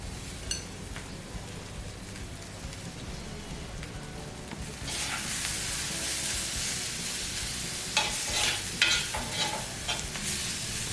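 Prawns frying and stirred in a pan for prawn puttu, a quiet sizzle that swells into a louder, rain-like crackle midway, with scraping spoon strokes and clicks toward the end.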